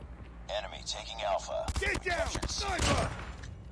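Rapid bursts of M16 gunfire in Call of Duty Mobile on a firing range, several quick cracking clusters fairly close, heard under someone talking excitedly.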